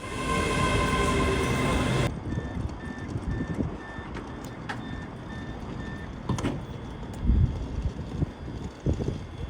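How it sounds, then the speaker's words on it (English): A ScotRail Class 385 electric train pulls into a station platform, a steady rumbling roll with an abrupt change partway through, then a repeating two-tone beep and scattered clanks from the carriage. "The 385 is now pulling in on platform 3."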